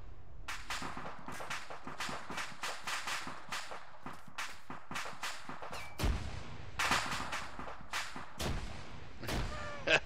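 Shells and gunfire in the WWII shooter Arma 3 IFA3, a dense run of sharp, loud blasts and cracks at an irregular, rapid pace, with a few heavier booms standing out near the end.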